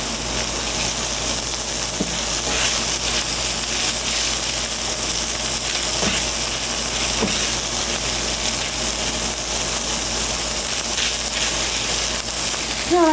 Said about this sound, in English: we'll saute this a little bit